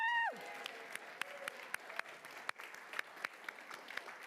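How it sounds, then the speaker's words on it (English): A falling whoop from one voice opens the moment, followed by scattered, sparse clapping from a modest audience at a State of the City address, individual claps distinct and evenly spaced. "I'll clap too."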